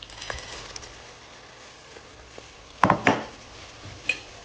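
Corn kernels tipped into a pan for a creamy white-sauce pasta make a couple of sharp clattering bursts in the middle of the clip, with a few faint taps and rattles before and one more soft clink near the end.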